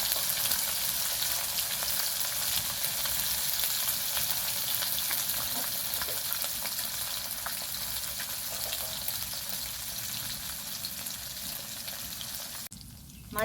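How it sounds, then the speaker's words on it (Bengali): Small mourala fish frying in a little oil for a rustic village-style fish curry, a steady close hiss and sizzle that holds evenly for about thirteen seconds before a brief shift at the very end. "এইভাবে অল্প অল্প করে মাছগুলো দিয়ে পরে ভেজে নিতে হবে"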